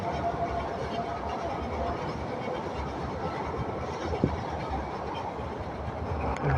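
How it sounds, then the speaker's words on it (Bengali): The Rangpur Express rolls fast across the new Jamuna rail bridge, a dense, continuous rumble and rattle of wheels and carriages heard from on board, with a brief metallic clink near the end. "ঝাঁকে ঝাঁকে ছুটে চলেছে আমাদের রংপুর এক্সপ্রেস দুরন্ত গতিতে"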